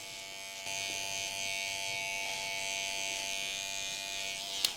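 Electric hair clippers trim a client's beard in a barbershop, making a close, continuous high buzz that holds steady for several seconds and ends with a small click.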